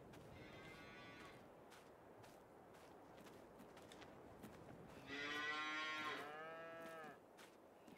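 Cattle on a farm in Farming Simulator 22, on the Elmcreek map, moo in long low calls against a steady background of farm ambience, with one loud, drawn-out moo near the end.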